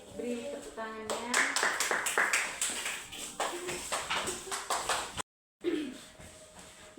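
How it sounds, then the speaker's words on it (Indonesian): Applause at a small church or community gathering after a talk about keeping the sea and environment clean: a few seconds of scattered hand claps with individual sharp slaps, mixed with voices, breaking off briefly before talk resumes. "Beri tepuk tangannya."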